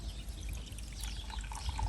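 Liquor pours into a glass in a steady, close trickle under a faint background hum, with no talking.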